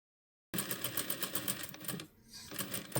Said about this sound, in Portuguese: nós vamos costurar o decote